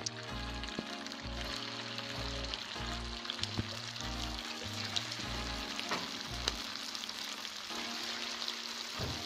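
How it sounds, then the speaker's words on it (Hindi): Seekh kebabs frying in hot oil in a pan over a low flame, a steady soft sizzle and crackle with no talking. "एक पैन में ऑयल गरम करें और हल्की आंच पर इन कबाब को तल लें"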